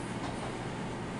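A loud swamp cooler air conditioner runs with a steady, dense broadband roar that holds unchanged throughout, with no voices present.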